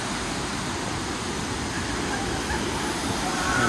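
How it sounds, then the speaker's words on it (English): Waterfall heard from the top, a constant broadband rushing roar of falling water, steady and moderately loud with no break. "I am on top of a waterfall"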